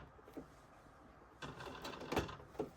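A sewing machine stitches slowly, quiet mechanical whirring that starts up after a soft tap and runs in a brief, faint close-up burst with light clicks.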